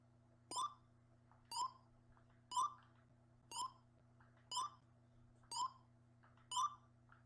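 Seven evenly spaced electronic beeps, about one per second, from the answer buzzer in the Sega Game Gear Jeopardy! game, each short and clear over a low steady hum.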